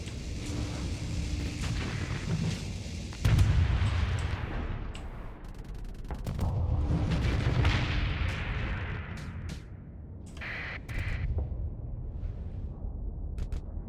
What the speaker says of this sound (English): Our tachyon lances are on auto fire.